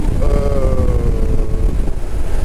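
Steady loud wind roar buffets a Sena Outrush-R modular helmet ridden with its chin bar raised, a continuous rushing turbulence with a faint whistling tone, no talk.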